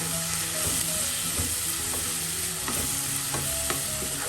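Turmeric stirred into hot oil for goat liver pepper fry over a low flame, a steady soft sizzle with repeated scraping strokes of a spoon against the pan, close and continuous with no talking.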